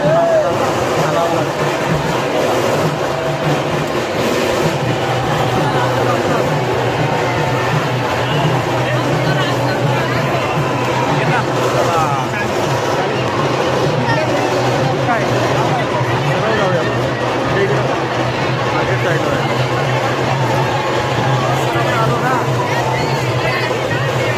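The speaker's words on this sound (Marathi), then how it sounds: "खूपच गर्दी आहे यावेळी, खूप गर्दी आहे." Dense crowd bustle at the Mahad chabina jatra festival procession, a continuous loud roar of many voices mixed with traffic and engine noise, never letting up.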